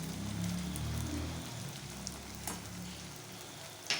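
Tomatoes with ginger-garlic paste frying in a pan for dal tadka, a steady close sizzle and crackle that softens after the first seconds, with a few light clinks.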